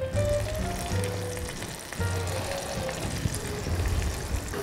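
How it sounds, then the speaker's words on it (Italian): Hot olive oil sizzles steadily in a pan with anchovy fillets, a continuous close frying crackle and hiss for a few seconds with no voices. "L'olio sta praticamente ormai arrivando a temperatura."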